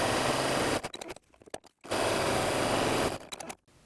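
A sewing machine stitches down the two long edges of a pocket for a quilted tote bag, running in a steady whirring burst, pausing with a few short clicks, then running again at the same close, even pace.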